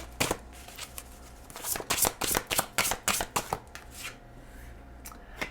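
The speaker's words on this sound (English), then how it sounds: "let's grab one card, wrapping up your bonus reading here" Tarot cards are shuffled close by in a quick burst of crisp riffling flutters that rises and falls, with a few soft taps and no talk.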